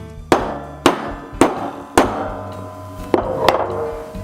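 Six sharp, heavy metal hammer blows strike a disc cutter punch, each ringing briefly, evenly spaced at first with a short pause before the last two.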